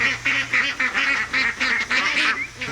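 Ducks at the working farm in General Coffee State Park, Georgia, give a rapid run of loud, nasal honking quacks in close, repeated bursts, with faint background noise and no clear speech.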